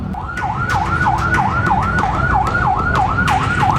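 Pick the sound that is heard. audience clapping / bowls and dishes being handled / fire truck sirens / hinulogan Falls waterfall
fire truck sirens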